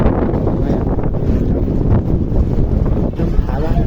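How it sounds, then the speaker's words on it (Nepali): Strong storm wind on a hilltop roars and buffets the microphone in loud, continuous gusts with no letup. "उडाउने हावा लागिसक्यो"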